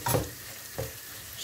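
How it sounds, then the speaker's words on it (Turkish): Diced meat and potatoes stirred in a pot, with two short scraping strokes and a faint sizzle between them, close and brief. "Şöyle tekrar hepsini karıştırdıktan sonra"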